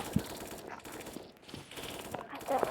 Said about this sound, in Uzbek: Qani qayta otishma bo'lyapti-ku.